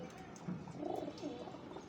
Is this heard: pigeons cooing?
yes